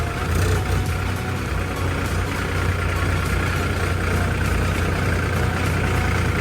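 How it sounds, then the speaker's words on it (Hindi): A tractor pulling a loaded trolley, its engine running steadily with a continuous low rumble and chugging drone, close and constant throughout without pauses. "हम चला रहे हैं ट्रैक्टर, काफ़ी दिनों बाद चलाया मैंने आज ट्रैक्टर।"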